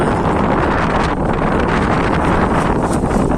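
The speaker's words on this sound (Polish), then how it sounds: "Wieje sztorm generalnie." Stormy gusts batter a high sky bridge, roaring as a loud, steady rush of wind buffeting the microphone throughout, with no one speaking.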